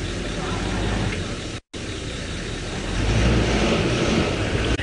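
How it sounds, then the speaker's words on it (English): Steady traffic rumble from several safari vehicles driving past and idling nearby on a sunrise game drive, a continuous engine drone that swells slightly toward the end. "Lots of cars, as you can hear."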